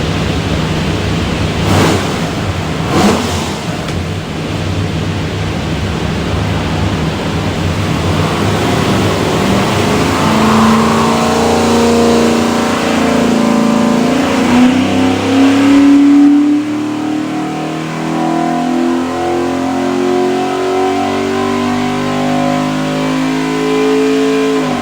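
A stacked 427 Windsor V8 with a rear sump oil pan, built for a 1972 Ford F100, runs on a dyno, its loud steady roar climbing in pitch as it revs up through a long pull before easing off.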